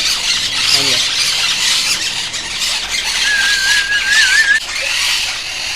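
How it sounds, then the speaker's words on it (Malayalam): Shrill monk parakeet squawks and squeals ring out repeatedly over a noisy outdoor background while a person talks briefly. "പല കളറിലും ഇവിടെ തത്ത ഈ മോങ്പേറ്റ് ഉണ്ട്"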